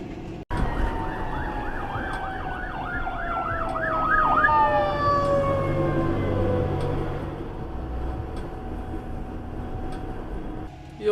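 Ambulance and police car sirens at a roadside accident wail loudly and continuously, their rising and falling tones overlapping with steady traffic rumble.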